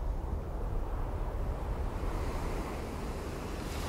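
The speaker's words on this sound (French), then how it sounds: "Le vent souffle fort et il y a beaucoup de vagues." Strong wind rushes over a continuous roar of waves on a lake at night. The low, surging noise stays dense and unbroken, with no voices.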